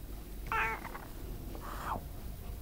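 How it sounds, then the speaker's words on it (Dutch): A cat meows twice, each a short, faint call about a second apart, heard close against a quiet background hiss. "Het is een poes."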